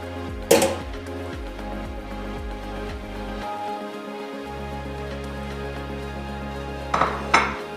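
Pudding chômeur batter being stirred, with dishes and utensils clinking against a bowl in sharp bursts near the start and again at the end, and a low steady hum running beneath.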